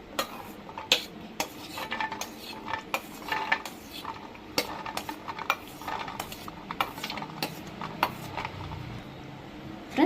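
Pomegranate seeds dropping into a steel mixer jar for juice, heard as a close run of small clinks, taps and rattles against the metal, fairly quiet and with no talking.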